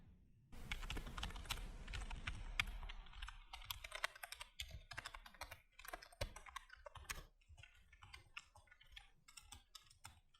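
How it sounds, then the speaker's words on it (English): Typing on a Cooler Master Devastator 3 mem-mechanical keyboard, close up: dense, fast clacking keystrokes in an unbroken stream, later thinning into separate taps with short gaps, with no talking. "now let's get the keyboard, do some typing so you guys can hear what it sounds like"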